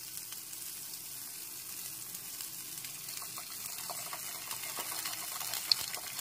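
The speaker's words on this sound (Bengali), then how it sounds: "এবার এর মধ্যে দিয়ে দিচ্ছি আদা রসুনের পেস্ট" Ginger garlic paste and tomato pieces frying in a pan give a steady, soft sizzle with faint crackles and a few light stirring clicks, close and fairly quiet throughout.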